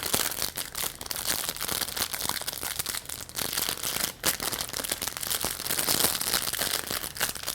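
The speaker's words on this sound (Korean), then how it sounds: "일반 OPP 비닐 있죠? 이거를 이렇게 싸줍니다." Clear OPP plastic film crinkles continuously and fairly loudly as it is wrapped around a block of floral foam cut like a cake slice for a plant centerpiece, with no talk over it.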